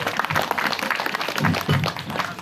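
Congregation at a mawlid gathering in a housing estate claps for the organizing committee, a moderate, somewhat uneven patter of hands with murmuring voices underneath.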